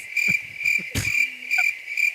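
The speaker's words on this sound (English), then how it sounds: "We need crickets." Crickets chirp as a sound effect in a high, steady trill of repeated pulses, loud and close, with a few low knocks and a brief tone mixed in.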